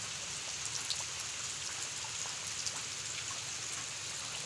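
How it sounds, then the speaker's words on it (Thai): Steady rain falling during a flood, a dense, even patter spread across the whole scene with small drips standing out here and there, moderately loud and unbroken, with no talking. "นี่ก็ยังตกอยู่ฝน"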